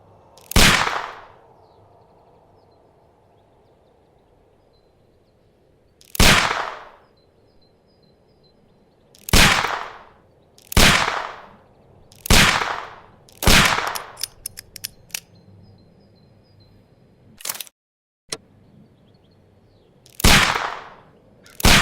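Pistol shots aimed at a package in the game Sherlock Holmes: Crimes and Punishments, about eight sharp cracks spaced irregularly over twenty seconds, loud and close, each with a short ringing tail, with no talk.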